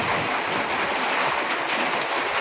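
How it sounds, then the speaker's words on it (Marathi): Heavy rain pours down in a dense, continuous hiss without a break, close and loud. "भरपूर पाऊस पडत आहे इथं"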